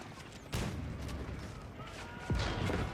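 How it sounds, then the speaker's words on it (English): Cannons and bombards firing in a real-time strategy video game battle: two heavy booming shots about two seconds apart over a constant clatter of combat, fairly loud and close. "One Royal Cannon here tries to fight off against the two bombards."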